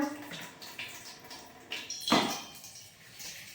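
A household tap runs slowly while pots are set out to make ice, giving soft intermittent trickles and splashes with a few clinks and knocks, quiet and close.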